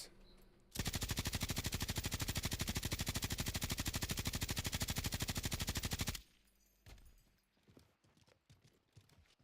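Bruin machine gun firing in a video game, a long rapid uninterrupted burst of loud, evenly spaced shots lasting over five seconds, followed by scattered softer game sounds.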